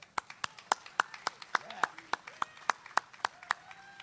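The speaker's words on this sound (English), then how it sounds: "Please give a round of applause for Larry Norris." Sparse, evenly spaced claps ring out in a steady rhythm as an audience welcomes speaker Larry Norris at an outdoor sacred-plants festival in Ann Arbor, Michigan, each clap crisp and distinct, with a few voices and calls mixed in.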